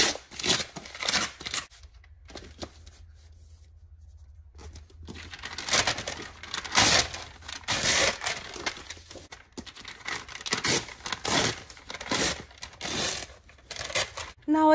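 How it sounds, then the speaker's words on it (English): A paper lunch bag being torn against a ruler close by in several ragged, crackling bursts, with short pauses between strips and a quiet stretch early on. "I'm using my ruler and I'm just going to tear."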